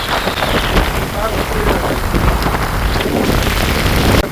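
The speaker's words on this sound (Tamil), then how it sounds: "மழையோட சேர்ந்து எப்படி காற்று அடிக்குது." Heavy rain pours down continuously in a storm, driven by strong wind, a dense, loud roar of drops and gusts close by with no pause.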